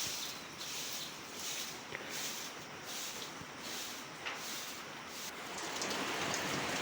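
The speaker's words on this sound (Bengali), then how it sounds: "এই দেখো প্রচণ্ড বৃষ্টি নেমে গেছে।" Heavy rain pours down in a village yard, a dense, steady hiss of drops drumming on surfaces that swells slightly toward the end, with no voices.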